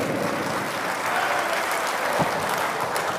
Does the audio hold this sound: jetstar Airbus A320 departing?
no